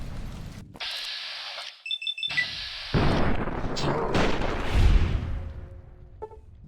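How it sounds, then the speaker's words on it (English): Gunfire in the video game Fallout: New Vegas, with sharp blasts and booming reports among electronic beeps and tones, loud and close, followed by a rolling rumble. "Everyone except Bart, who gets a couple of bullets to the head instead."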